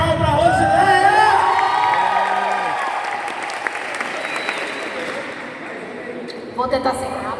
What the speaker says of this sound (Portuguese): Uma salva de palmas para Rosileia.